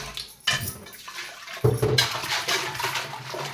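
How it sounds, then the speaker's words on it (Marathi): A pressure cooker is rinsed under a running kitchen tap, giving a steady rush and splash of water with occasional knocks of the metal pot, fairly close and loud throughout. "आता मी तुम्हाला हा कुकर नळाखाली धुवून दाखवते"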